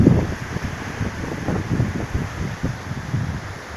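A flooded river near the Pont de Cuers crossroads, four days into heavy rains, rushes with a steady low roar mixed with wind buffeting the microphone, continuous and fairly close, with no voices.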